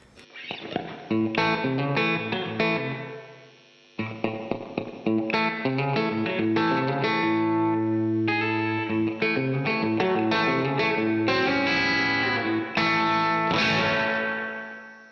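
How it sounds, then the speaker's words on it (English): An electric guitar plays chords and single notes through a Line 6 HX One's heavy spring-style ambient reverb effect, each note ringing and washing out into a shimmering tail. "the hot spring is sort of like a spring reverb, but turned up a notch, like an ambient effect"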